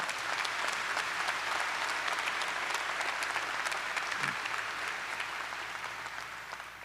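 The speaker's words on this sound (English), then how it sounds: "Good, clap more." Sustained crowd applause at a 2022 undergraduate commencement ceremony, a steady dense wash of many hands clapping that holds for the whole stretch and fades slightly at the end.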